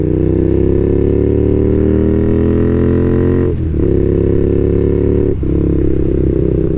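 A motorcycle with freshly synchronized carburetors running slightly rich, its engine droning loudly and steadily as it rides, climbing slowly in pitch with two brief dips like gear changes.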